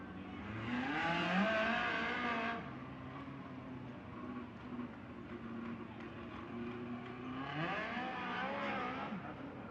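Midget race cars in a USAC Nationals A Main at Merced Speedway, a continuous loud engine roar with revs rising and falling as cars pass close by and sweep around the dirt oval.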